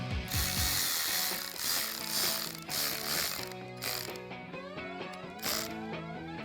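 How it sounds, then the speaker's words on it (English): Ratchet with an 8mm socket tightening an intake clamp on a Dodge Challenger 5.7L cold air intake install, with close, rapid clicking in repeated bursts and brief pauses between strokes. "I'll tighten down that clamp with an 8mm socket"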